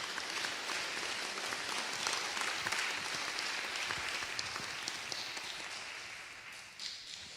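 Audience applause at a mayoral candidates' forum as two candidates take the stage, steady clapping from a room of people that tapers off toward the end.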